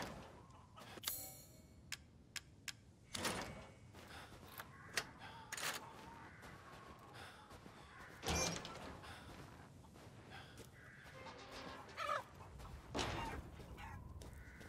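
A chicken in the video game Resident Evil Village clucks and flaps in sudden, scattered bursts over a low ambient game background, with no talking.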